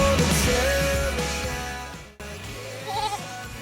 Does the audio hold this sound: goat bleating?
yes